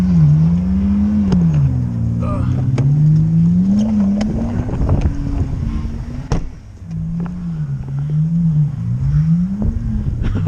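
An all-wheel drive car driving through snow during a snowstorm, its engine a steady, loud drone that rises and falls in pitch as the driver works the throttle, close by and continuous throughout.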